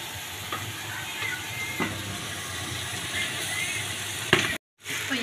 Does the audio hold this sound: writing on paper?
no